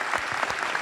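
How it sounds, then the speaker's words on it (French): Audience applause at an evening public lecture, a steady wash of clapping from a crowd sustained evenly through a brief moment, fairly close, with no voices over it. "Je vous demande un tonnerre d'applaudissements"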